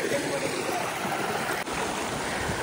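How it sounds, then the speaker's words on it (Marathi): Water from a hidden waterfall near Chhatrapati Sambhajinagar flows in a continuous loud broadband rush, steady and close throughout with no voices. "बघू शकता तुम्ही पाणी किती निघतंय"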